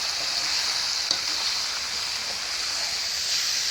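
Fish coated in spices and onion paste fries in oil for a village-style Bengali fish curry, giving a dense, even hiss that stays close and steady throughout, with only a faint tap and no voices.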